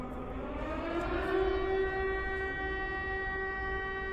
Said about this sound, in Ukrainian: Да, у нас, блін, повітряна тривога.